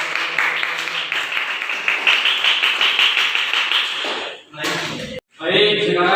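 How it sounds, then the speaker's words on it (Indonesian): A classroom group clapping during a microteaching lesson on faith in angels, brisk dense hand claps for about four seconds, then fading into other noises and a sudden cut. "Tuan tepuk tangan dulu."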